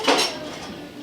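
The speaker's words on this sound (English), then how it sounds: "Sometimes it's hard to pop out, so you gotta grab a little butter knife" A butter knife pries a stuck item out of a metal can, giving one brief, close metallic clink and scrape that fades quickly.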